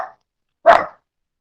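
A small female dog gives a single sharp, loud bark close by, preceded by the brief tail of another bark, with silence around it.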